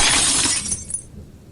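A lighthouse lamp's glass shatters in a loud, close sound effect: a sharp burst of breaking glass followed by a short tinkling fall of shards, with no talking.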